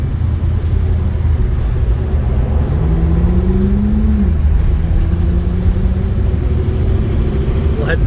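A 1953 Ford Crestline Victoria with a V8 and automatic transmission driving along, a steady low engine rumble with a tone that rises and then drops as it shifts, heard from inside the car with no talking.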